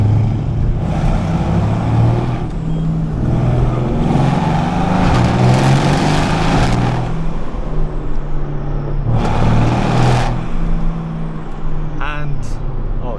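Mercedes-AMG cars cruise together to a car meet in the UK with a continuous loud engine rumble and occasional revving surges, while voices talk over it.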